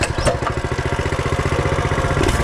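A Coleman B200R mini bike's small engine running right after a first-pull start, settling into a steady, rapid chugging idle close by, loud and even throughout with no voices.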